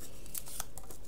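Scissors round off the edge of a paper heart in a quick run of small, soft snips. The cuts are close and quiet, with no voices.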